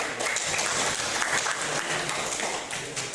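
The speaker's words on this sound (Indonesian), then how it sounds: "Tepuk tangan dulu." Applause from a group at an Indonesian school session, dense steady clapping for a few seconds that thins toward the end.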